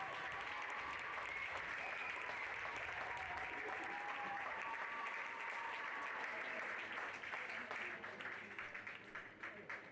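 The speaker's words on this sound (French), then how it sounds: "On les applaudit bien fort." An audience at a pony-games championship prize-giving claps steadily for a team, a sustained wash of applause with some talk mixed in, tapering slightly toward the end.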